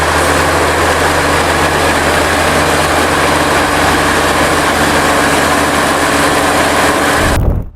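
Early 1950s Allis-Chalmers HD21 diesel crawler dozer of over 100 horsepower: a loud, steady engine roar with a constant low drone, held unbroken until it cuts off abruptly at the very end.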